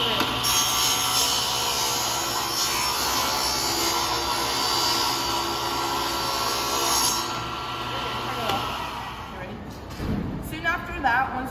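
A table saw rips through wood in a high school woodworking shop, its steady loud whine and cutting hiss running for about seven seconds before winding down, with shop noise and handling clatter afterward.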